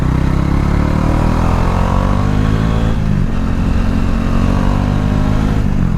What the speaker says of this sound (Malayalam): സഡൻ ആക്സിലറേഷൻ എന്ന് പറഞ്ഞാൽ നമ്മൾ പെട്ടെന്നൊരു ആക്സിലേറ്റർ കൊടുക്കുമല്ലോ